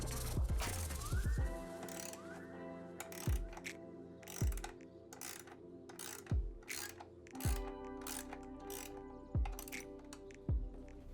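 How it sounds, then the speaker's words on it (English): A wrench works the 14mm saddle rail bolts under the seat of a Lectric ONE e-bike, producing crisp, evenly spaced ratchet clicks with a faint metallic ring, heard up close without speech. "loosening the 14mm bolts connected to the rails under the saddle"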